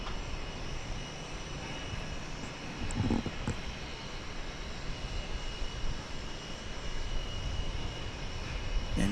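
A steady, broad roar of jet airliner engines fills the air at DFW Airport, holding close and loud throughout without pause, with no talking heard.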